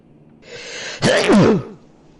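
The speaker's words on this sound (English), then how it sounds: "sneeze my soul out of my body" A single loud, close sneeze, a sharp inhale building up into an explosive burst, then quiet.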